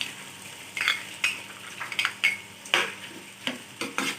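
Tomatoes go into a pan of frying vegetables, including capsicum, for Hakka noodles: a soft sizzle under a series of sharp spatula scrapes and clinks against the pan, close and intermittent, with no talking.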